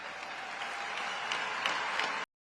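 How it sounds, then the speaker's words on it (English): An audience applauding a speech about an inaugural address, a dense continuous wash of clapping from many hands that cuts off abruptly at the end. "People are clapping for it because they believe it."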